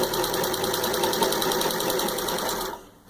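An antique 1916 Singer 127 treadle sewing machine stitching denim at full speed, a loud steady rapid mechanical chatter that runs continuously, then stops abruptly near the end.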